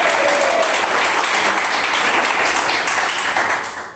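Church congregation claps in dense, loud unison applause, a continuous roar of many hands that fills the space and begins fading only at the very end.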